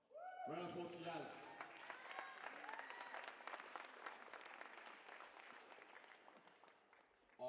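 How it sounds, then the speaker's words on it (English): Applause and clapping from a crowd at a wheelchair football grand final presentation, loud and sustained for several seconds right after an announcement, fading slightly toward the end. "Round of applause for Yaz."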